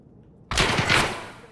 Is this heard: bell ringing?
no